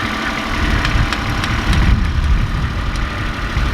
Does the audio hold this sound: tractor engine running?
yes